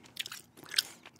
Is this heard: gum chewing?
yes